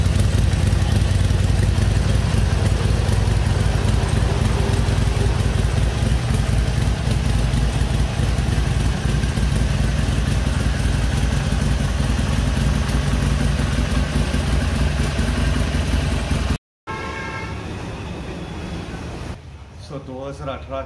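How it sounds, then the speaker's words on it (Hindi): A 2018 Harley-Davidson motorcycle idles loudly and steadily nearby with a rumbling, clattering exhaust, cutting out briefly before background noise and faint voices follow. "एग्जॉस्ट का साउंड सुना देते हैं आपको।"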